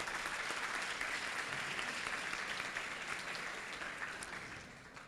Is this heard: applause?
yes